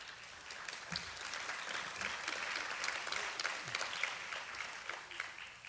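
An audience at a university State of UIC address breaks into applause, a dense, continuous patter of many hands with a few sharper individual claps standing out, sustained at an even level.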